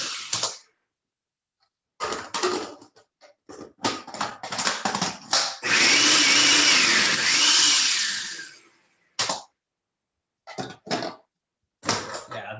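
Food processor pulsing vegetables for a hearty vegetable chili: several short whirring bursts and one longer roaring run of a few seconds, separated by silence, loud and close.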